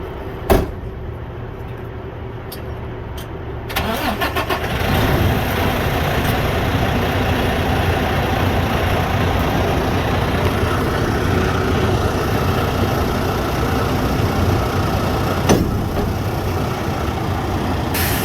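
A semi tractor's engine pulls forward away from its trailer during a drop-and-hook, a steady loud diesel rumble building after a few door-like clunks and holding through to the end.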